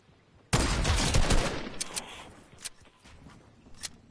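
Burst of rapid video game gunfire erupts loudly, a dense fusillade that tapers into scattered shots and sharp cracks, with no talking.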